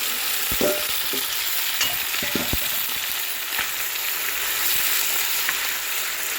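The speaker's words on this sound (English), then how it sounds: "we are going to add our beef to this here. And we are going to brown it nicely on all sides." Beef chunks browning in a pan on a gas stove for Hungarian goulash, a steady moderate sizzle with a few sharp clinks and scrapes of stirring early on, no voices.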